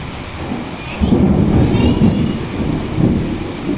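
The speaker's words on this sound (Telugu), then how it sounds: "సో వింటున్నారు కదా వర్షం అయితే స్టార్ట్ అయిపోయిందండి ఆ వర్షం కూడా పెద్ద పెద్ద ఉరుములు మెరుపులతో కూడిన వర్షం అనమాట" Heavy rain pours steadily through a thunderstorm, with low rumbling thunder that swells after the first second and stays loud and dense to the end.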